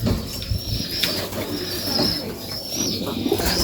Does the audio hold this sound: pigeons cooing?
yes